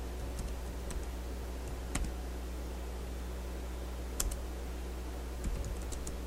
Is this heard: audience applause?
no